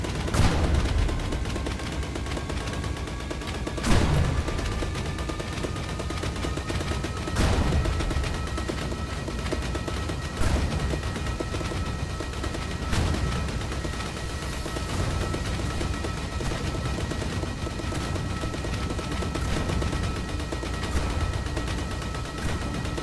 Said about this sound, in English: Why is this gun shooting faster?